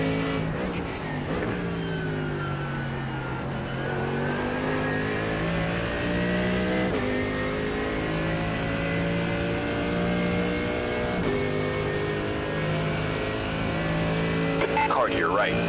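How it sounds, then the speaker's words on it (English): Onboard a race car in practice for the Bathurst 12 Hour, the engine drones loud and steady with rising and falling revs through gear changes, while a voice talks over it. "Car to your right."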